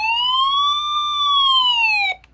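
An EoxSmile CR1009 emergency alert radio sounds its SOS siren, a loud close electronic tone sweeping slowly up and back down, then cutting off abruptly.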